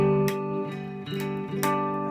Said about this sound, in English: Clacky sound you can hear is the bridge.